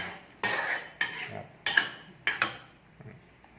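A utensil strikes a pan four or five times in a regular rhythm while squid and salted egg are stir-fried, the sharp metallic scrapes and clanks close and fading toward the end, with no speech.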